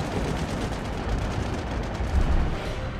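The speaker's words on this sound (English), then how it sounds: "Enterprise erupts with gunfire as every battery spews lead." Anti-aircraft guns aboard the aircraft carrier Enterprise fire in a dense, loud, continuous barrage during a Pacific air attack, with overlapping bursts and no gaps and no voices.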